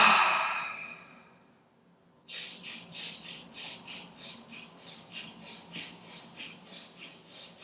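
A slow, deep breath during a morning yoga session, a long airy exhale that fades away, then a pause followed by a run of rhythmic, breathy pulses, close and alone with no talking.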